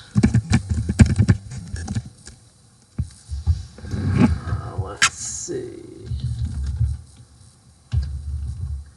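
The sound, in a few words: typing on a computer keyboard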